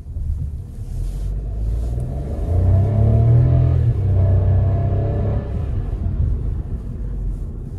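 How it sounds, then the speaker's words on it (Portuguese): A Hyundai HB20S Comfort TGDI turbo car engine rumbles as it accelerates, a steady low drone that swells in the middle and then settles, heard from inside the car with no talking. "E o ronquinho do motor"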